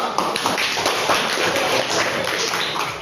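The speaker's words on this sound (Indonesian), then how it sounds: "tepuk tangan dulu" A class of pupils clapping hands in a school lesson: dense, fast, overlapping claps from many hands, close and loud, sustained for about three seconds without talk.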